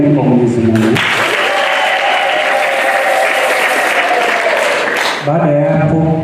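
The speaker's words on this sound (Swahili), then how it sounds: "Makofi mengi kwa Mwenyezi Mungu" A loud, sustained burst of audience applause at a Carmelite seminary thanksgiving ceremony in Kola, steady for about four seconds and cut off by a speaking voice before and after.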